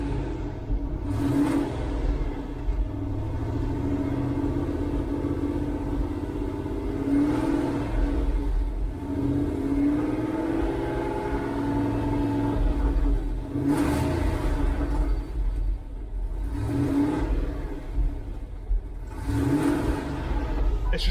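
A 1989 Range Rover Vogue SE engine runs steadily with a low rumble, and the throttle is blipped several times, each bringing a brief surge in revs.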